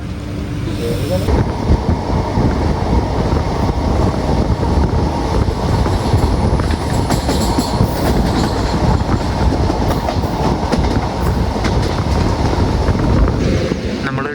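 A passenger train pulls out of Divine Nagar railway station in Kerala, bound for Guruvayur, with a loud, steady rumble of wheels on rail, clickety-clack beats and wind buffeting the microphone throughout.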